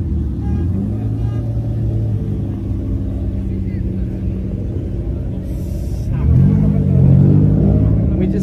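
A classic car in Rosso Corsa red with dual Weber carburetors on velocity stacks, at a Cars and Coffee meet in Miami, rumbles steadily nearby, then revs up louder toward the end while people talk over it.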